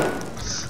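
Footsteps of a character walking in the video game Escape from Tarkov, a short muffled thud or two of a step, close and fairly soft, with no talk over it.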